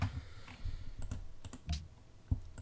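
Numbers are typed on a computer keyboard during a Civilization 5 game, with quick irregular clacking keystrokes, close and clear, and a few sharper taps standing out, no voices.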